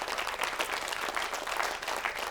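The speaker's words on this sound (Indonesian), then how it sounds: "Sahabat-sahabat sekalian, tepuk tangan semuanya ya." Audience applause at an Indonesian religious talk show, a steady dense wash of many hands clapping throughout, fairly close and filling the room with no voices over it.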